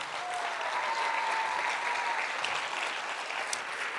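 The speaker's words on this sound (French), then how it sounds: "Évidemment, applaudissements s'il vous plaît." Steady audience applause fills a theatre at the close of an annual conference, a dense, even wash of many hands clapping at moderate volume throughout, with no voices standing out.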